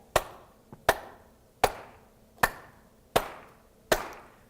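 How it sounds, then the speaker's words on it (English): Six sharp, evenly spaced hand claps, close and crisp, keeping a steady beat with one faint extra clap between the first two and no voices. "If I asked you to clap along to the beat with me,"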